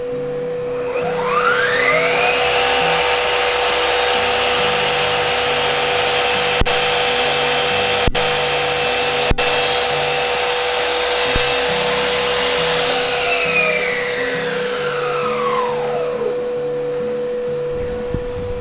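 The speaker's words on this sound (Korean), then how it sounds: "자, 그러면 이번에는 청소기를 연결해서 해보겠습니다." A Bosch GCM 18V-305 GDC cordless sliding miter saw with a vacuum cleaner attached: the motor spins up with a rising whine, cuts with a loud steady drone for about fifteen seconds alongside the vacuum's hum, then winds down.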